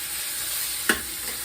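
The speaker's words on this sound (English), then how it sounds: "Get them frying, and you can always add a little more butter" Steady, soft frying sizzle of chicken in butter in a pan, a continuous hiss with one brief clink partway through.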